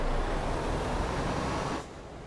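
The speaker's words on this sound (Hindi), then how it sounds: "अरे वाह बारिश आ गई है." Rain hisses steadily in Euro Truck Simulator 2 while a Volvo truck on Volvo rims drives a delivery route. The dense, even wash plays alone and stops suddenly after about two seconds, leaving a quieter background.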